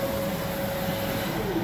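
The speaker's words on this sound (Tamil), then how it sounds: "சரியா பிரிண்ட் தான் பண்ண போறோம்" A printer runs steadily while producing a measurement scale, a continuous mechanical hum with a faint tonal whine, close and even throughout the short stretch, with no talking.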